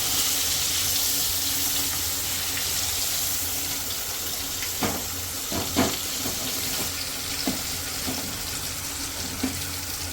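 Water pours into stuffed bitter gourd masala in a pan to make gravy: a steady broadband rush of flowing liquid with faint sizzle underneath, plus a few soft clinks and knocks from the pan, with no talk.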